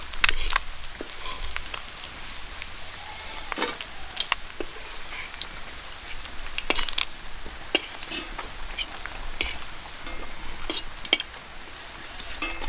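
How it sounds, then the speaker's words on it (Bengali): Puti fish frying in mustard oil in a pan, a steady broadband sizzle with scattered sharp crackles and pops running throughout, fairly close and continuous with no talking. "পুঁটি মাছগুলো ভাজা হয়ে গেছে নামিয়ে নিচ্ছি"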